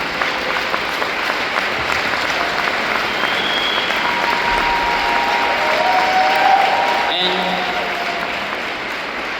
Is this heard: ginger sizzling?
no